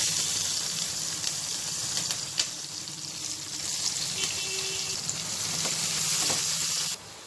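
Sliced onions and green chillies fry in a pan for egg dum biryani, giving a loud, steady close-up sizzle with a few faint stirring knocks. The sound drops off sharply just before the end.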